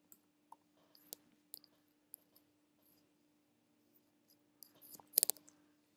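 Sparse, faint clicks from a computer mouse while changing file sharing settings in macOS Ventura, single taps spaced irregularly with a brief cluster near the end, over a low steady hum.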